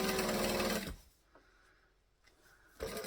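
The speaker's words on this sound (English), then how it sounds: "So I'm top stitching 1/8 of an inch, which for me is the center of my foot" A sewing machine top stitches a fabric panel in a fast, loud burst, stops for about two seconds of near quiet with faint handling noises, then starts stitching again.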